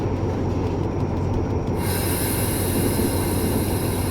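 Train wagons roll along in Train Simulator on a TCDD DE 24000 run through the Taurus Mountains, a continuous close rumble of wheels on rail with a high wheel squeal joining partway through, no talking.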